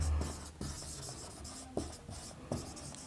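Writing during a chemistry lecture on solutions: a marker or pen scratches steadily at close range, with a few sharper taps as strokes start, over faint room noise.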